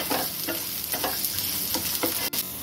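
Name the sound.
green chillies sautéed and stirred in a pan on low flame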